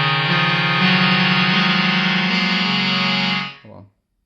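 A toy keyboard's saxophone voice holds a buzzy, distorted chord, notes added one by one on top until it cuts off and a short lower note sounds at the end.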